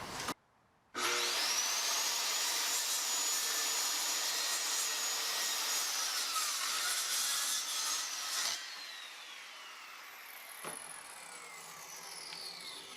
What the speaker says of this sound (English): this is actually a laser-guided circular saw, which is great if you need more precision